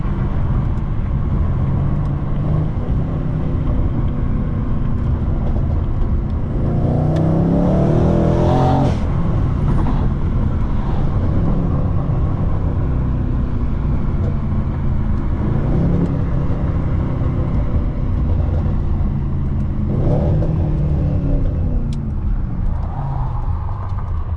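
A Mercedes C63 AMG engine rumbles loudly and steadily, with a couple of revving surges rising and falling over a continuous exhaust drone.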